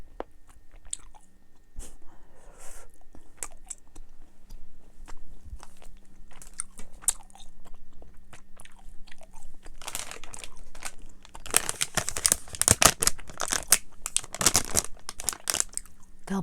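Dubble Bubble watermelon and strawberry bubble gum chewed close to the mic, with wet smacking and crinkly crunching bites that grow louder and denser toward the end, no speech.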